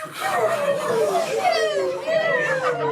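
Audience members at a New Year's Eve comedy show vocally imitate fireworks, a loud jumble of overlapping whistles, descending squeals and pops from many voices at once, continuous for a few seconds.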